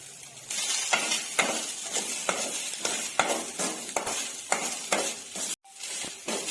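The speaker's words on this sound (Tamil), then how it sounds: "மீடியம் ஃப்ளேம்ல வச்சு நம்ம வதக்குறதால கொஞ்சம் லேட் ஆகும்" Sliced bitter gourd dry-roasting in a kadai over a medium flame, a continuous close sizzle broken by repeated sharp scrapes and knocks of a spatula stirring, with a short gap near the end.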